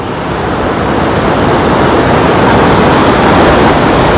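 Ocean waves on Nanggelan beach in Jember, a loud, continuous wash of surf rolling in close by, steady throughout with a broad roaring texture and no voices.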